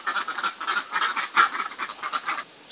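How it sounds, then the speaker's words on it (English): Several ducks quack continuously around a farmyard with egg-laying hens and flower gardens, a dense, overlapping run of nasal calls at moderate distance with no talk over them. "And here are the ducks."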